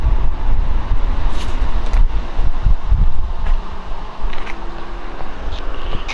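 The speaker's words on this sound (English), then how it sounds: "All the traffic. They just let school out here." Road traffic passing during school pickup, a continuous roar of nearby cars with a few swells as vehicles go by, heard from alongside a 1955 Chevrolet Bel Air hardtop.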